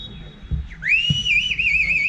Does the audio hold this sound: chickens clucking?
no